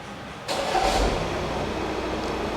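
Audi A4 engine cranking and catching about half a second in, then settling into a steady, close idle with a low rumble, heard alone in a service workshop.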